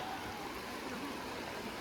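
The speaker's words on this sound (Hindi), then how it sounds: "देखो नदी पूरी फुल चल रही है अभी इस टाइम पे" Steady rushing water of a fast-flowing river in full flood near Shakumbhari Devi, a continuous broadband roar with no pauses.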